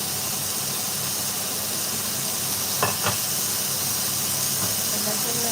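Mushrooms sautéing in a pan give a steady, moderately quiet sizzle and hiss throughout, with a couple of faint scrapes or clinks partway through.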